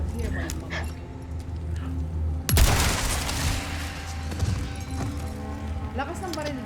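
Shotgun fire in Resident Evil 4: a single heavy boom bursts out partway through, under ongoing game ambience, and people talk over it.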